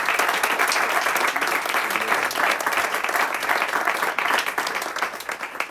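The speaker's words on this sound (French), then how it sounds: "Ah oui, c'était très beau, faut applaudir." Wedding guests applaud steadily at a ceremony after the vows, a dense, sustained wash of many hands clapping at fairly close range, holding an even loudness throughout with no speech rising above it.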